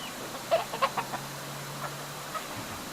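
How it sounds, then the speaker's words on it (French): Hens kept for eggs and meat on a farm in Congo, giving a few soft, scattered clucks, close and fairly faint over quiet background. "Ce sont nos premières poules élevées pour leurs œufs et parfois pour leur viande."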